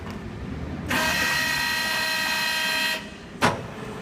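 A LeBlond-Makino servo shift engine lathe, 15 by 54 inch, spins its spindle at low speed, a steady mechanical whine with tonal ringing that holds for about two seconds, then drops away, followed by a short clunk.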